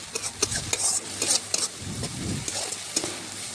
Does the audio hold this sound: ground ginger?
yes